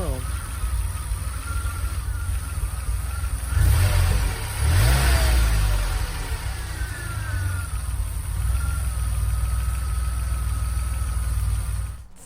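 A DeLorean engine with an idle fault runs unevenly at close range, a rough, wavering drone that swells into a brief rev midway, then settles back to a lumpy idle.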